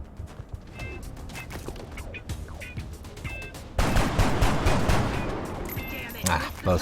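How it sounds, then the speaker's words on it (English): Gunfire from reaction shots in the XCOM strategy video game: a dense clatter of rapid shots and mechanical clicks, growing louder and fuller partway through, heard over game background sounds. "Both reaction shots missed."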